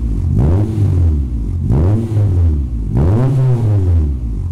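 Spoon Sports Honda Civic SiR EG6 N1 race car engine with its silencer fitted, revving up and dropping back three times in loud, close, rhythmic surges.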